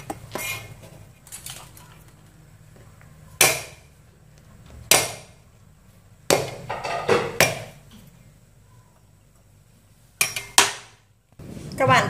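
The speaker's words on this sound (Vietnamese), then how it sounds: "mình sẽ lật dập củ tỏi ra." Garlic bulb being smashed flat on a kitchen board before stir-frying garland chrysanthemum greens, about seven sharp, loud thuds in irregular bursts separated by quiet pauses.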